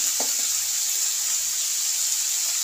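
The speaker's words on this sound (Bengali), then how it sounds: "গাজরটাকে একটু ভেজে নেব।" Carrots fry in a pan for fried rice, giving a steady close hiss of sizzling oil throughout, with a couple of faint low clinks early on and no voices.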